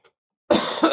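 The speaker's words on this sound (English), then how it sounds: "I got a cough." One close, loud cough bursts out after a brief silence, a rough chesty hack lasting about half a second.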